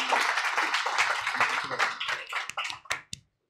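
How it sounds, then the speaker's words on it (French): Applause for a birthday at a Paris meetup of Notion and no-code users, a dense burst of many hands clapping close by that thins into a few scattered final claps and then stops. "Mais tu méritais ces applaudissements."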